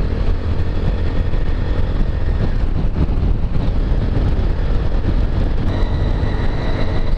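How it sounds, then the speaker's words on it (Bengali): A BMW motorcycle rides along a highway toward the Bhairab bridge on a group world ride, its engine droning loud and constant beneath heavy wind buffeting on the microphone throughout. "আর এই যে আমাদের তানবীর ভাই জগিং করতেছে বাইকে,"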